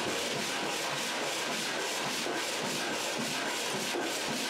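Sandpaper is rubbed back and forth against the uneven side of a wooden box, making a steady, continuous, rasping scrape with a faint rhythmic pulse, close by and with no voices.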